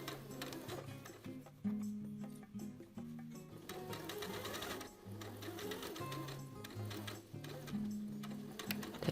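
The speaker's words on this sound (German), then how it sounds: "Diese Kante wird mit 6 mm Nahtbreite zusammengesteppt." Sewing machine stitching a 6 mm seam along the lower edge of a jeans pocket bag, a steady rapid mechanical chatter running close and continuous, with brief changes in speed and a few pauses.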